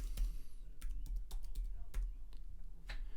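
Keys on a computer keyboard are typed as a word is entered, with a short, irregular run of quiet, crisp clicks close by.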